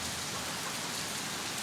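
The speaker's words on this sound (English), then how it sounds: "Just raining." Steady rain falls on a village built on stilts over the sea, a dense even hiss of drops on surfaces with no other sounds and no voices.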